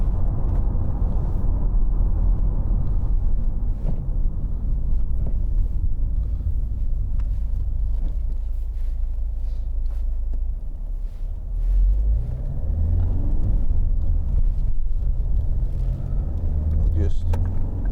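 A 2011 Ford Mondeo 2.0 TDCi Zetec diesel drives toward the motorway, its engine and road rumble a loud, constant drone with wind noise inside the cabin, someone speaking over it.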